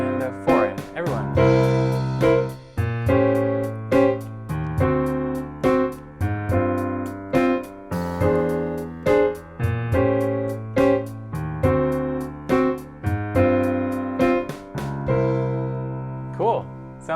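Piano playing a bluesy chord progression in a steady rhythmic pattern, repeated bass-and-chord stabs pulsing evenly over about seventeen seconds, bright and close with no voice over it.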